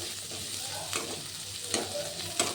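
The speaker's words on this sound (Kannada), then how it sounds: "ಈರುಳ್ಳಿ, ಬೆಳ್ಳುಳ್ಳಿ, ಶುಂಠಿ, ಹಸಿರು ಮೆಣಸಿನ್ಕಾಯಿ ಇದೆಲ್ಲ ಫ್ರೈ ಮಾಡಿಕೊಂಡು" Onion, garlic, ginger and green chillies frying in a pan for a methi and green pea kurma, with a steady soft sizzle and a few sharp scraping stirs, no talking.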